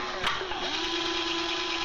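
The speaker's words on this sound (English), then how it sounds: "And you drill into the can." A power drill whines steadily at close range as it bores into a can, with the motor tone holding constant through the short burst.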